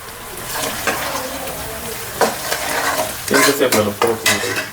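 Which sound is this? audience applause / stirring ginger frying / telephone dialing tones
stirring ginger frying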